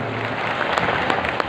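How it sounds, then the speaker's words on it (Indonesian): A church congregation applauds together, a dense wash of many hands clapping steadily throughout with no voices on top. "Tepuk tangan yang paling meriah buat Tuhan."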